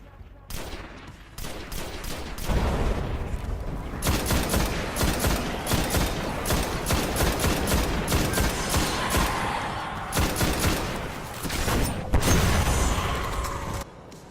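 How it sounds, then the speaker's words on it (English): Updated gunfire in the Destiny Beta video game, dense rapid bursts of shots fired in long volleys with brief gaps, loud and punchy with occasional booms. "Gunfire sounds were also updated, and now they sound like they're shooting bullets"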